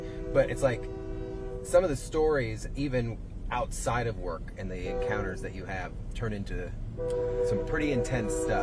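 A train rolls past near Port Manatee, its horn sounding as steady tones through most of the stretch while two people keep talking over it close by.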